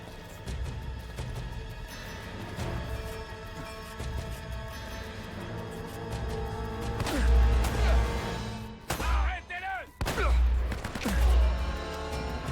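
Gunfire and explosions crackle through a firefight in the video game Uncharted, a dense, loud barrage with heavy booming blasts and a brief lull partway through.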